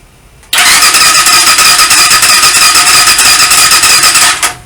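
A Kovi 300 Advance motorcycle with starter trouble is cranked by its electric starter, which gives a loud, close, rhythmic whirring grind lasting about four seconds before cutting off, with no clear catch of the engine.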